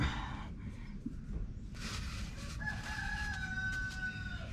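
A rooster crows nearby in an African outdoor yard during a vehicle service, its drawn-out call rising over a steady low background hum and ambient noise.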